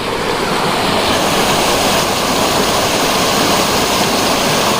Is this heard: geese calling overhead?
no